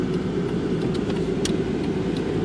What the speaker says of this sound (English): You know I'm driving.